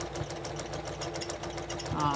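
A fast, smooth, powerful sewing machine runs steadily while stitching a memory pillow made from clothing, a continuous mechanical whir heard throughout with a person talking over it.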